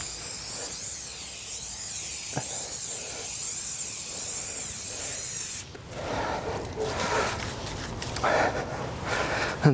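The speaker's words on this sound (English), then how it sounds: "we're going to spray it this way quickly, and we'll spray it" Waterproofing sealant sprayed from a can onto tent fabric: a steady close hiss that runs unbroken for several seconds, then gives way to shorter, uneven spray bursts with faint rustling and handling.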